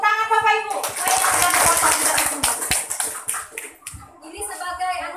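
A church congregation claps after a cake cutting, a brief burst of mixed hand claps for about three seconds between voices, fairly close, with speech before and after.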